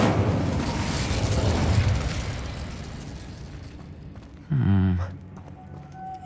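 An Incendio fire spell goes off in Hogwarts Legacy as a short burst of whooshing flame after a stretch of rumbling ambience, followed by quieter background sounds.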